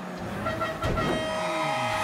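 An old car horn in Mafia 3 gives a short, thin honk with a steady tone that holds for about a second, heard alone with no talking.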